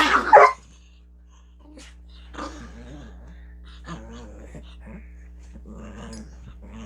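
A dog indoors at a homestead pants and whimpers faintly in short bursts, with a brief louder sound at the start and quiet talk between.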